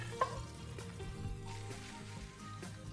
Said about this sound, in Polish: No i boczek mamy zrumieniony, więc go wyjmujemy z gara.